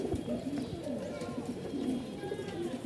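Pigeons coo low and soft in a continuous, overlapping murmur, close by and fairly quiet, with some background noise mixed in.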